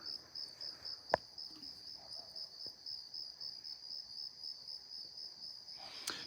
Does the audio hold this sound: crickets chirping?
yes